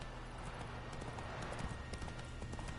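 Roach, the horse in The Witcher 3, gallops with a rapid, steady stream of hoofbeats, faint and continuous throughout.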